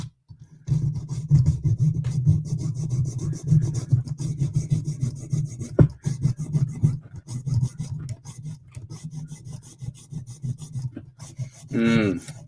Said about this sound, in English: Should probably pull out the jeweler's saw for this.